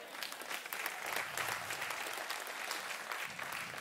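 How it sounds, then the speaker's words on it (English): A church congregation during a full worship service claps in a steady, moderately loud round of applause lasting a few seconds, with scattered voices faintly mixed in. "I think that deserves a bigger hand clap, right?"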